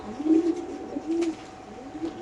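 A pair of Milipait pigeons cooing close by, several soft, low throaty coos repeating in short phrases over a quiet background.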